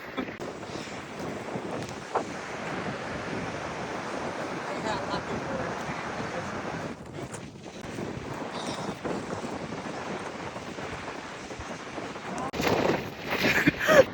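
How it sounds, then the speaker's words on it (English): Strong wind buffets the microphone outdoors while someone runs, a continuous broadband rumble and roar for the whole stretch, swelling louder near the end. "running into the fucking wind"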